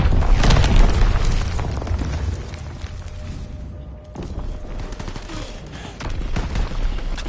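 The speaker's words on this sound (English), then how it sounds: "Mortar fire incoming!" Mortar rounds and gunfire boom loudly and repeatedly in a Call of Duty WWII multiplayer match, a dense, continuous barrage of blasts with a brief lull near the middle before the explosions pick up again.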